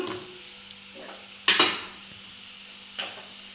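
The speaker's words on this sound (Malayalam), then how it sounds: "നല്ലതായിട്ട് ഇളക്കണം പിന്നെ ഈ ഒരു ഞുള്ളു ഉപ്പും കൂടി ഇട്ട് കൊടുക്കണം നല്ലതായിട്ട് ഇളക്കണം" Prawn chammanthi with chili powder, turmeric and salt is stirred in a pan: a low steady frying hiss broken by two sharp, close scraping clatters of the spoon against the pan, plus a few softer taps.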